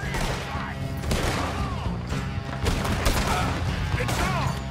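Gunfire erupts in an outlaw camp in Red Dead Redemption 2, loud, dense shots and bursts running throughout with shouting voices mixed in.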